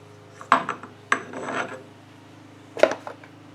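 A Land Rover R380 gearbox is turned by hand on a bench, giving three brief metallic clicks and scrapes with a rubbing grind between them, close and quiet over a steady low hum.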